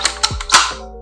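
The charging handle of a budget semi-automatic shotgun is racked with a quick series of sharp metallic clacks and a sliding scrape, close and crisp, all within about a second.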